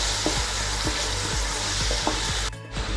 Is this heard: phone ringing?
no